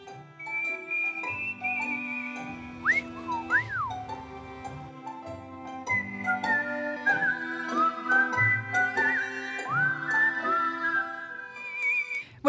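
Melodic whistling by a performing whistler over a backing of instruments, with sliding pitch swoops and sustained tones running through the whole passage.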